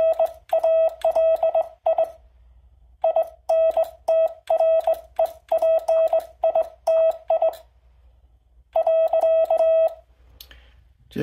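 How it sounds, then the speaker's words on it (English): Rapid bursts of tonal clicking beeps come in quick rhythmic groups separated by short pauses, a telegraph bug key's contacts tapping out Morse code, loud and close. "part of what you're hearing is just the difference in the way the contacts impact each key"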